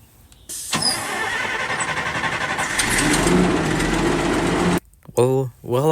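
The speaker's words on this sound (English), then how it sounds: "the operator had to restart the truck" An older CR&R garbage truck engine cranks and restarts, catching into a loud, rough mid-pitched idle that holds for several seconds before a brief pause and a voice speaking near the end.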